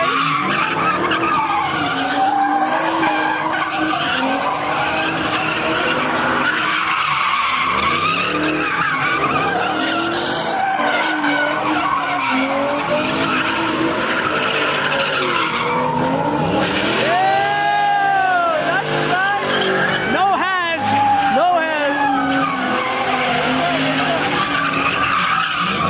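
At a large car meet, a Ford Mustang loses control, and its tires skid and squeal in long, loud, wavering screeches over engine roar. Spectators' voices are heard in the background.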